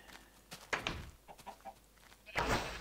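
Chickens on a video game farm cluck in a few short, close bursts, with a louder squawk near the end.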